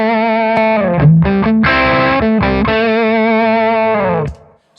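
Electric guitar played through drive pedals with a level boost pedal engaged: loud, sustained distorted chords and bends ringing for about four seconds, then cutting off abruptly into silence.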